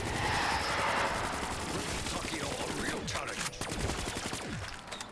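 Rapid gunfire from Black Ops 3 Zombies, a steady rattle of repeated shots over a loud, busy game backdrop, with a voice talking briefly among the shooting.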